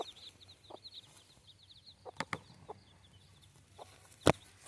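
Chickens and small chicks on a village farm give scattered clucks and soft peeps against faint high chirping, with a few sharp louder calls close by and one loud squawk near the end.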